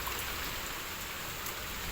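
Summer rain falls steadily in a dense, even hiss of drops striking surfaces, continuous and moderately loud with no voices.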